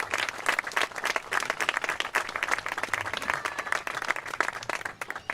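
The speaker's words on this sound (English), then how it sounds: "So let's give Brett a huge round of applause and a very warm welcome to him and his wife, Teresa" A crowd at a park playground grand opening claps in a thick, energetic round of applause, steady and loud throughout with scattered sharper claps and no speech over it.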